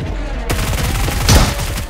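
Rapid automatic gunfire from PUBG Mobile rattles in a loud, dense burst of close shots.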